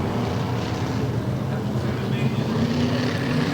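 Several race car engines rev and build together at a Budweiser Racing Series Labor Day Classic oval race in Bakersfield, California, a dense steady roar with rising tones as the field takes the green flag, under a race announcer's voice.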